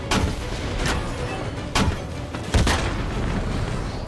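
Three sharp booming shots from a sniper rocket launcher in Batman: Arkham City, evenly spaced over a few seconds and set against steady ambient game noise, with no voices.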